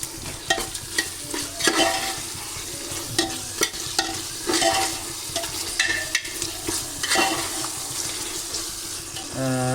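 Tomato paste goes into a pan of Arabian chicken madhbi, stirred with scraping and clattering strokes over a soft sizzle, close and steady with repeated bursts of stirring throughout.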